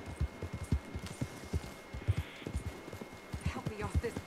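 Horse hooves clip-clop in a steady walking rhythm in the video game Red Dead Redemption 2, close and fairly loud, with a voice talking over them.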